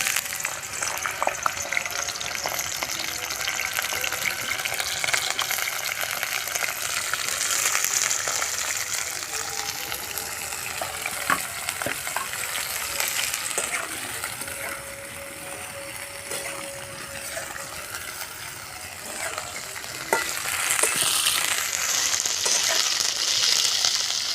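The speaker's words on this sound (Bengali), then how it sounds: "তেল গরম হয়ে গেছে কপিগুলো ভেজে নেবে" Cauliflower florets fry in hot oil in a kadai while singara is being made, giving a steady broadband sizzle that runs the whole time at an even level, with faint stirring clinks and no talk.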